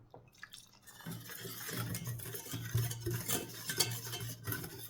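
A spoon stirs a cocoa, sugar and milk cake batter in a bowl, giving soft, continuous scraping and sloshing with faint clinks against the dish, close by and steady, with no voices.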